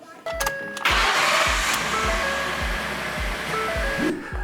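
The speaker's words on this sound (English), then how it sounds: "we are ready to jump into the car and turn on the key" A car engine, boosted by a TOPDON V2200Plus jump starter, cranks with a few rhythmic turns and then catches into a steady running hum, heard close.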